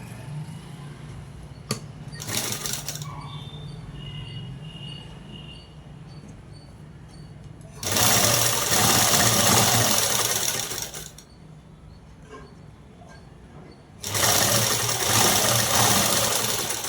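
A sewing machine stitches a long frock dress made from a saree, running in two long loud whirring bursts with quieter pauses and small handling clicks between them, close by and with no talking.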